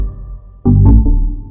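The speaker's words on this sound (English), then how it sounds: "That sound is harmless. Electric organ." A sustained electric organ preset tone in FL Studio holds, then a louder organ chord swells in abruptly and rings out.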